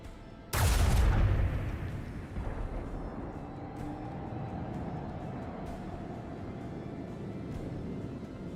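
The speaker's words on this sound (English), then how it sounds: "Good luck, plasma torpedoes!" Plasma torpedoes launch in the space combat of the video game Rogue Trader, a sudden loud blast followed by a long rumbling roar that slowly fades to a steady hum, with no talk.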